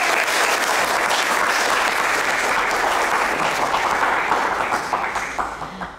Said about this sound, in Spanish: A ver, un aplauso por favor.